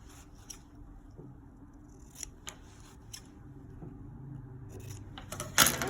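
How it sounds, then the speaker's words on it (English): Scissors snip through fabric corners of a sewn circle purse, a few sharp close cuts spaced across the stretch, ending in a louder cluster of snips. "You want to trim these corners so that we don't have too much bulk in the corners"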